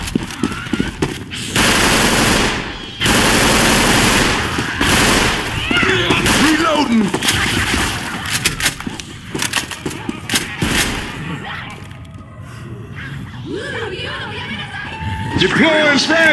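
Heavy automatic gunfire with frag rounds in the Left 4 Dead 2 zombie shooter game comes as long, loud bursts of rapid explosive shots, with game voices and commotion mixed in and brief pauses between volleys.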